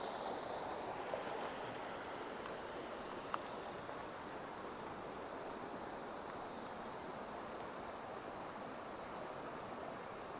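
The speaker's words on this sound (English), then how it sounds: "Who doesn't like the sound of water?" Steady, broadband rush of a stream flowing under a bridge, constant and fairly soft, with a faint click partway through and no voices.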